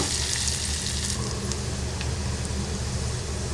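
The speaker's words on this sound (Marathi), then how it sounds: "आता हे कांदा आणि लसूण व्यवस्थित परतून घ्या." Chopped onion and crushed garlic sautéing in a pan for a capsicum sabzi, giving a steady, close broadband sizzle with no pauses and no voices.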